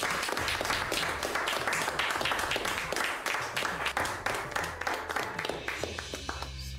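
A group of people in a Marathi TV drama scene clapping to welcome an arriving man, dense steady applause of many hands that thins out toward the end, with a voice speaking over it near the close.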